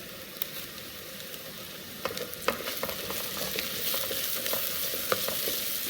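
Onions frying in a pan with bay leaves, curry leaves and pandan leaves for Sri Lankan chicken biryani, a steady soft sizzle broken by scattered spatula scrapes and crackles, alone with no talk.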